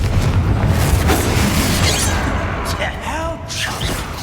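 Confringo blasting spell explosion in the video game Hogwarts Legacy: a loud booming burst up front that decays into crackling debris, with a voice speaking over the later part.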